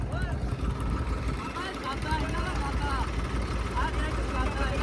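A heavy tractor engine drones steadily at a tractor power show, a low constant rumble with faint voices in the background.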